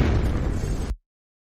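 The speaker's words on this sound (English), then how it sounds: "It sounded like an explosion." A loud, roaring explosion with a dense low rumble lasting under a second, then cutting off abruptly into silence.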